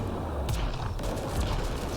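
Scorpion weapon explosions in Mass Effect Andromeda multiplayer combat: a dense, continuous barrage of overlapping blasts and gunfire, loud and chaotic, with a few sharper bursts standing out.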